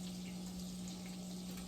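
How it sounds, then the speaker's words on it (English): Shrimp sizzle in a bath of garlic butter, a soft, steady crackling hiss with a faint low hum beneath, quiet and unbroken throughout. "I'm going to drop these little shrimps in this bath of garlic butter."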